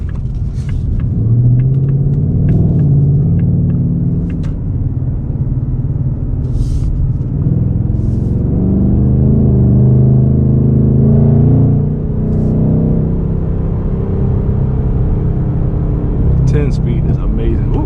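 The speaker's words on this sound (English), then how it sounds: "Ooh, there's a little pop from the exhaust." A 2025 Ford Mustang Dark Horse on a drive around the block, its engine rumbling steadily and loudly throughout with a brief exhaust pop, while someone talks over the drone inside the cabin.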